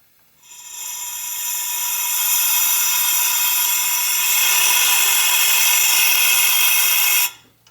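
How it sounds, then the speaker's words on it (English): Compressed air hissing steadily from a shop air hose during work on a VW Bus full-flow oil project, a loud close rushing blast that starts abruptly, holds for about seven seconds, then cuts off. "I'm feeling air pressure coming out of there pretty good"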